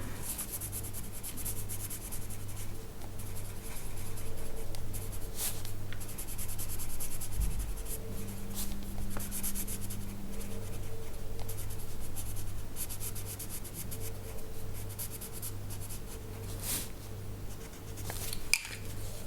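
Coloured pencils in burnt ochre and yellow ochre shade lightly across the paper of a colouring book, making a steady, close, continuous scratchy rubbing with no talking.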